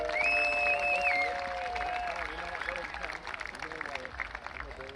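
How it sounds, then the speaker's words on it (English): Stadium crowd applauding the 2024 football seniors at a high school football game, steady clapping and cheering throughout under a tonal whistle or horn early on. "let's have one round of applause for our 13"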